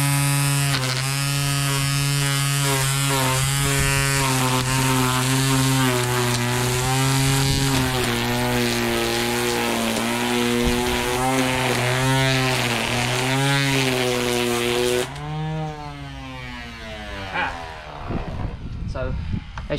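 A Ryobi One+ 18V cordless grass trimmer runs loud and near with a steady, buzzing motor whine; late on the trimmer line comes off and the note abruptly drops and changes.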